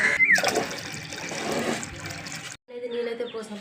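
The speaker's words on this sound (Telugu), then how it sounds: "ముందుగా అయితే కడిగి పెట్టిన పప్పులు అయితే వాటర్ అయితే పోసుకోవాలి" Water pours onto washed lentils for a village-style gongura dal, a close splashing, gushing stream that runs steadily for a couple of seconds, then a brief pause and a quieter trickle.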